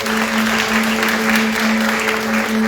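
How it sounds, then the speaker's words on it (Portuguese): Church congregation applauding during an evening service, a loud, even wash of many overlapping claps that holds steady throughout, with a faint sustained tone underneath. "Você pode aplaudir esse nome?"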